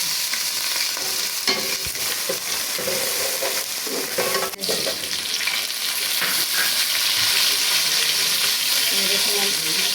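Ginger garlic paste sizzles steadily in a hot pan close up, with occasional stirring scrapes and faint clatter throughout.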